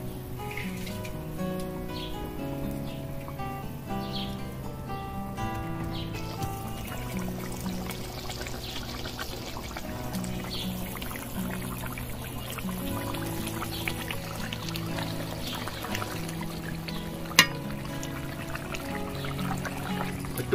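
Rohu fish goes into a simmering oil-and-chili curry in a pan in a village kitchen, giving a soft, steady bubbling and trickling under faint tonal background sound.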